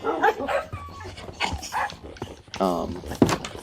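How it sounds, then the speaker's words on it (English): Several dogs in Minecraft, a video game, bark and yip in quick repeated bursts, some sharp and some softer, layered with faint whimpers and game sounds across a few seconds. "we have all my dogs"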